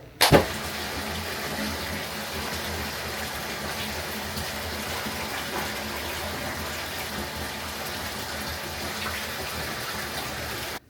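Water runs from a tap into a bathtub as a bath fills, a steady rushing hiss that carries on evenly for about ten seconds after a short knock at the start.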